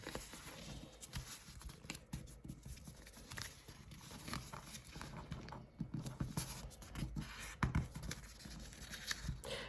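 Paper is folded for origami on a table: soft, close crinkles, creasing rubs and light taps come in uneven bursts, quiet and up close, with no talking.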